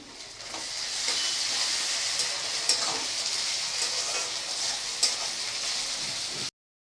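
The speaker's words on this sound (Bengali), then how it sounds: "পেঁয়াজটা অর্ধেক ভাজা হয়ে গেছে এখন আমি আদা রসুন বাটাটা দিয়ে দিলাম" Ginger garlic paste frying with half-fried onions in a pan, a loud continuous sizzle with occasional stirring knocks, close and steady without any voices, ending in a sudden cutoff.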